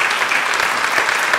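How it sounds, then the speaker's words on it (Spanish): An audience gives dense, steady applause to a speaker at a book presentation, a continuous wash of many hands clapping at even loudness for the whole moment. "lo despedimos con un aplauso"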